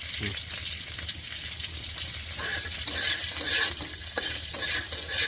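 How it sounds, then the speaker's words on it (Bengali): Steady sizzling of garlic frying in hot oil in a kadai, with occasional stirring clicks, loud and close throughout. "বিপ্লববাবুর কথা অনুযায়ী রসুনটা একটু ভাজা হয়ে গেলে পেঁয়াজটা দিয়ে দেবো"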